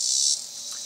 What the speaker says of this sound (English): Lots of cicadas.